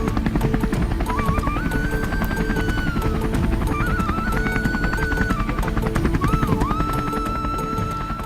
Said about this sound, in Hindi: यहीं से शुरू होगा आपका हेलीकॉप्टर का सफर